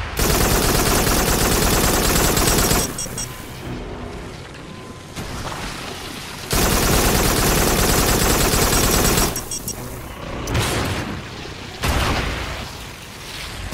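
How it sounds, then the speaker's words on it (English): Heavy gunfire from a secondary weapon in the game Farpoint, long loud sustained bursts broken by short gaps, with booming impacts and a dense rattling texture. "Press the highlighted button to fire the secondary weapon"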